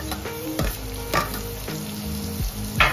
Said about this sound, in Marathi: आणि हा कांदा गुलाबी होईपर्यंत आपल्याला हे फ्राय करायचं